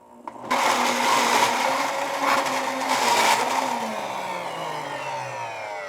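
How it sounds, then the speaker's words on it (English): Blendtec blender with its special lid churning a thick chocolate pudding mixture of sprouted beans, a loud continuous motor whir starting abruptly after a brief moment of quiet, its pitch slowly sliding lower as the dense mix thickens. "now we will use that special little lid that I have here with the Blendtec. It's a thick mixture, so you have to be able to mix it"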